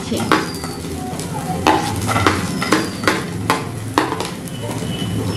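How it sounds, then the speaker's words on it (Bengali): Coconut, cashews and raisins fry in ghee in a pan on a gas stove, with a low sizzle under repeated sharp scrapes and taps of a spatula against metal, close and fairly loud, without speech. "নারকল কাজু বাদাম কিশমিশগুলোকে আমি লাল করে ভেজে নিয়েছি।"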